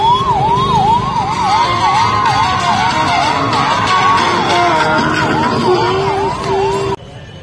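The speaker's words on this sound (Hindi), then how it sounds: "एम्बुलेंस" Ambulance siren wailing loudly and close during a crowded Rath Yatra night festival in Puri, its rising-falling tone repeating steadily over crowd murmur before cutting off abruptly near the end.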